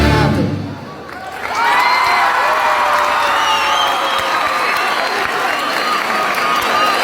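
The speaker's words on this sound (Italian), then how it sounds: "Un applauso a tutti" A live audience claps and cheers after a song in an Italian performance, the applause rising quickly to a loud, sustained wash of clapping with scattered whoops and children's shouts, close and full.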